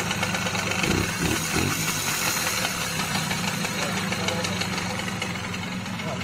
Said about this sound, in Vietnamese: Bây giờ là mình sẽ nổ máy để các bạn nghe thử cái xem cái âm thanh của nó như thế nào